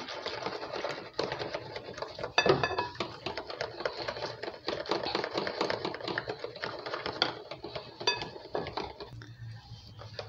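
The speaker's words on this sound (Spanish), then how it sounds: "la voy echando en forma de hilo y sin dejar de batir" Vanilla custard being made as hot milk is poured in a thin stream and whisked without stopping, a steady busy clatter of whisk against a metal pot with small clinks, close and continuous, with no talking.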